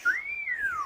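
A person whistles a single short tone that rises and then slowly falls, clear and close, with no talk.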